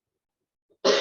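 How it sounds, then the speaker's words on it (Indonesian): A single loud, close cough bursts out after near silence, preceded by a faint tiny throat sound, during a public information session on asset reporting for city government staff. "batuk-batuk."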